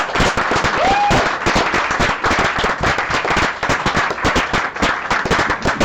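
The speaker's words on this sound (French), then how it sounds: "Un tonnerre d'applaudissements pour Hugo Lucas" Crowd applause at a French political event on LGBT+ rights, a thunderous burst of sharp, rapid clapping that stays loud and dense throughout, with a brief whistle or cheer near the start.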